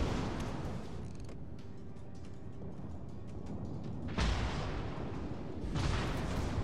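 Secondary guns on the battleship Alabama fire in a naval combat game, producing a rapid volley of sharp reports over a dense rumbling din, with two heavier booming blasts standing out.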